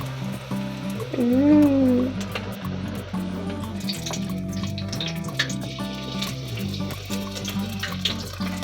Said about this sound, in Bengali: গরম তেলে এবার আমি ছেড়ে দিলাম কড়াতে